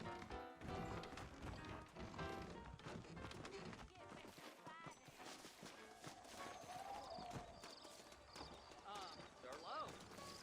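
Steady clip-clop of saddled horse hooves trotting along in Red Dead Redemption, mixed with background music and talking voices throughout.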